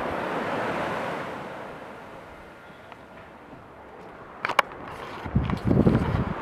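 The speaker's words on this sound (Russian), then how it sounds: "Море сегодня не штормит, спокойное, можно сказать." Gentle, calm sea waves wash steadily at Sudak, Crimea, near a pier, under soft wind rumble, with a few louder splashes and knocks toward the end.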